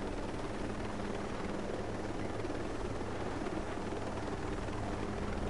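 A helicopter in Ghost Recon Breakpoint drones as a constant, dense rotor rumble with a broad steady wash, unchanging in level throughout and heard without any talk over it.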